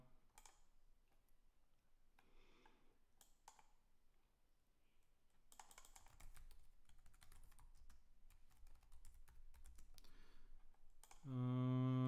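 Computer keyboard typing in quick bursts of soft clicks, sparse at first and then denser, recorded close and quiet, ending as a voice begins to speak.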